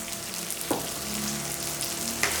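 Small onions and dried red chillies fry in a hot pan with oil, a continuous soft sizzling hiss broken by a couple of sharp stirring clinks, fairly quiet and close.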